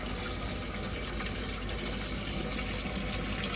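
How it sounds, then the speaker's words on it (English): Water from a motorhome tap driven by the onboard water pump in an Auto-Trail Frontier Comanche, a steady close gushing flow into the sink that runs unbroken throughout with no talk. "Just showing you water pressure's working on your water pump."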